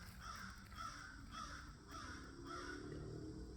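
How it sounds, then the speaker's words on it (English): A crow caws in a quick series of about five harsh calls, evenly spaced and fairly faint, as if from some distance, over a quiet background. "That crow has a lot to say."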